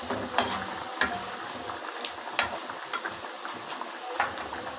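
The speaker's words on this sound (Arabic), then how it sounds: "ودلوقتي زي ما حضراتكم شايفين البصل بيتحمر" Onions fry in a pan with a steady close sizzle, broken by a few sharp clicks and stirring knocks spaced about a second apart, no voices.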